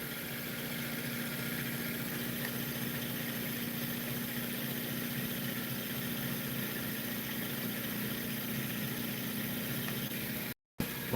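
A steady, droning pulse motor generator with reed switch and trifilar coils runs continuously at a constant pitch, loud and close, with a brief cutout near the end.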